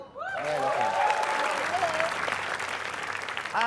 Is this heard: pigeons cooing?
no